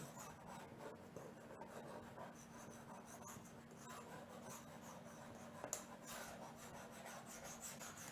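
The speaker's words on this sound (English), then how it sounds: "I'm scraping this to get off whatever label is still there." A hand scraper rasps steadily across a surface to remove a leftover label, a continuous close scratching with a low hum underneath and no talk.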